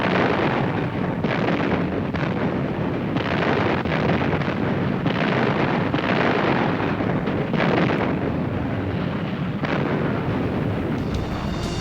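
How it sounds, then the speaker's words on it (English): A naval artillery barrage pounds an enemy beach in a Second World War landing: a continuous, dense roar of blasts and rumbling detonations, loud and unbroken, with surges where individual explosions stand out. "While the naval barrage softens up the enemy on the beach"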